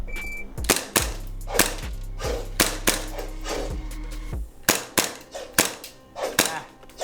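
Vorsk VP26X airsoft gas blowback pistol fired repeatedly at close range, about a dozen sharp snapping pops, first in quick pairs and then irregularly spaced, with a brief mechanical whir under some shots.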